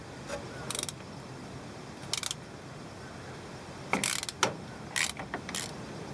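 A ratchet with an extension unscrews the filler plug on a vehicle's rear differential, giving several short close bursts of quick clicking separated by quiet pauses.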